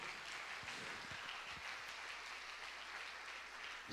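Steady applause from a church congregation, a dense wash of clapping held at an even level throughout, with no voices over it.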